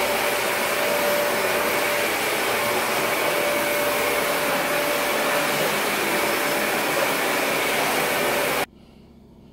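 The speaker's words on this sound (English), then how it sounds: "I'm going to give them a good vacuuming first" A vacuum cleaner runs over carpets with a loud, steady broadband roar and faint whine close by, continuing unbroken for most of the stretch before cutting off abruptly near the end.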